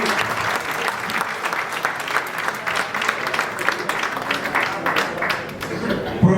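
Audience applause at a talk on insurance sector challenges and awareness, steady dense clapping throughout at moderate level, with a voice faintly present underneath.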